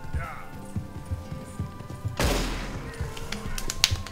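A revolver fires in Red Dead Redemption 2 during a horseback chase: hoofbeats and a voice, then a loud sharp gunshot blast with a trailing echo, followed by a couple of smaller cracks.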